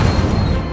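In Hogwarts Legacy, an Incendio fire spell bursts with a short, heavy, rumbling boom that fills the brief moment, with no talk.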